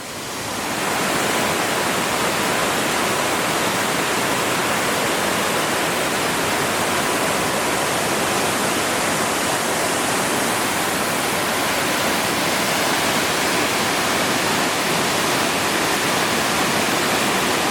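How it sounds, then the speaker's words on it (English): The lower cascade of Trestle Falls in Tasmania gives a loud, constant broadband roar of rushing water, heard up close and steady throughout with no voices. "This is just the lower section of the falls."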